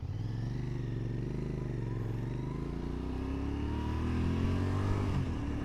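A Royal Enfield Interceptor Bear 650 twin engine pulls steadily from the rider's position, its pitch climbing through a gear as the motorcycle gathers speed, with constant wind rumble and no talk.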